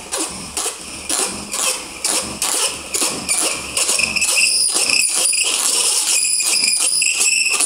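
A friction fire drill spins in its hole, giving a rapid, rhythmic grinding and squeaking that starts in pulsing strokes and then smooths into a continuous loud buzz, close up.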